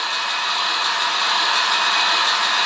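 Swimmer splashing in the Dreamcast game Sydney 2000 comes out as a steady, loud, hissing mechanical whir like a printer running, continuous and unbroken with no talk.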